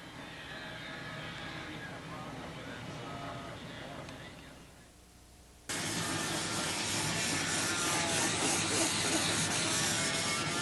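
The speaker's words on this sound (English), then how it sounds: "we're going to try to get some sanding done today" Steady broadband hiss of a power sander grinding away, dipping briefly before a louder, harsher stretch resumes, close and continuous.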